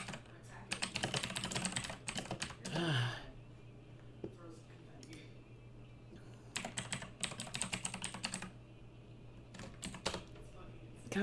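Bursts of rapid computer-keyboard typing, soft clicky keystrokes in quick runs separated by quieter pauses, with a sharp breath or gasp partway through, close to the microphone.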